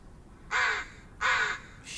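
A crow caws twice in a spooky forest in the Blair Witch video game: two loud, harsh, drawn-out calls about half a second apart, with the start of a third at the end over quiet ambience.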